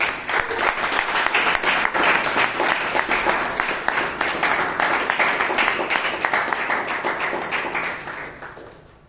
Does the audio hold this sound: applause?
yes